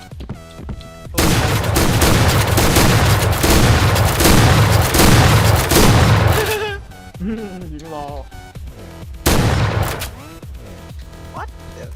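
Rapid, heavy blasts from a UTS-15 shotgun in the online shooter Point Blank fire in a dense burst for about six seconds, then scattered shots follow. Game effects and someone talking in Thai are mixed in.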